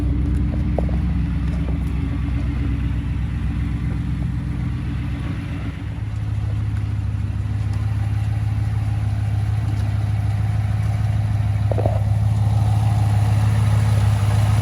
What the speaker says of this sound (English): And the engine's nice and quiet.